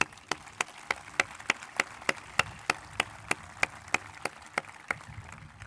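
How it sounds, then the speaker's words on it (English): Evenly spaced, crisp claps in a steady rhythm at a North Andover High School graduation ceremony in 2021, moderately distant and clear, with no voices over them. "Let's give them a round of applause, too."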